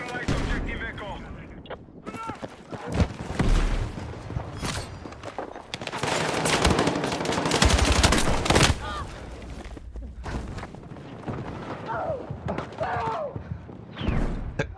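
DMR rifle fire in a Halo match, bursts of rapid shots and thuds crowding the middle of the stretch, with someone talking intermittently over the action.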